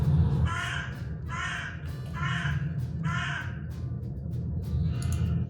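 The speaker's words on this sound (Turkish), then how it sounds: "8K karga sesi." Four loud, harsh crow caws in a steady rhythm, close by, with a fainter call at the end.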